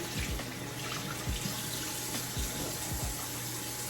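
Cold water runs from a tap at a bathroom sink onto a towel, a steady close stream with a few soft splashes and no voices.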